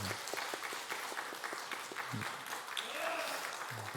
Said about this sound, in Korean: 우리 임도 장로님 잠깐 우리 격려의 박수 또 응원의 박수 하겠습니다